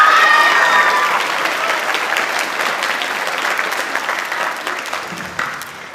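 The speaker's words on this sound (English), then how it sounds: "Let's please give one more round of applause for Brixton," Audience applause at a high school spring choir concert, a loud, dense wave of clapping from a full room that slowly fades, with a few cheers early on.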